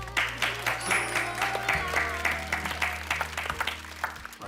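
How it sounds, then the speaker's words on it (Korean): Applause on a Korean variety show set, rhythmic clapping from the cast punctuated by bursts under a steady low hum and music-like tones, with voices mixed in. "박수 한번 줘"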